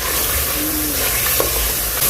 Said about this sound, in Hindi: यहाँ पर 4 मिनट हमने गोश्त को भून लिया अच्छे तरीके से, मटन को